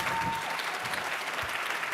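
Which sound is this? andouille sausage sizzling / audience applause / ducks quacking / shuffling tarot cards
audience applause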